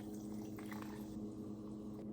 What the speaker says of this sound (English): 3 ounces of soda water.